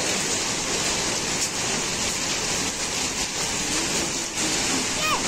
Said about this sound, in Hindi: हाँ आसमान से ओले गिर रहे